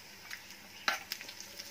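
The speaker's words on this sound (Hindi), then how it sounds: "अब इसमें ये 6-7 कड़ी पत्ते हैं जो हमने बारीक काट लिए थे" Finely chopped curry leaves hit hot oil with browned sesame seeds for a fasting peanut chutney tempering, giving a quiet, close sizzle with a sharp crackle burst near the middle and light stirring clicks afterward, no talking.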